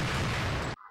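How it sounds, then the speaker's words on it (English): A loud, dense burst of explosions in the video game Global Defence Force rumbles for under a second, then cuts off abruptly into near silence. "Ooh, explosions. Yeah. Pretty explosions."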